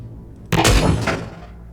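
A hover tank firing its gun in a video game: one sudden loud blast that rings on briefly with a rumbling, metallic tail before fading out.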